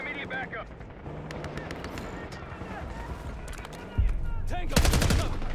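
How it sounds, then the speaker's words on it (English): Bursts of gunfire crackle in a busy Call of Duty: Black Ops 6 battle scene, with a loud heavy volley near the end amid shouting voices. "We've got gunfire to the right."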